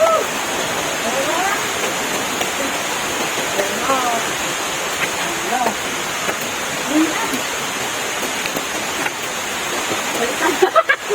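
Hulugan Falls roars in a dense, constant rush of falling water, loud and close, with a voice faintly heard over it near the end.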